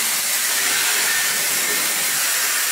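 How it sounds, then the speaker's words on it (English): A Dyson Airwrap running as a blow dryer gives a steady, loud, close rushing hiss of air with no pauses and no talking. "This is just like a regular blow dryer."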